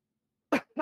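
A man sneezes twice in a quiet room, two short loud bursts about a quarter second apart, the second slightly weaker.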